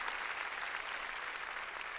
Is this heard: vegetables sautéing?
no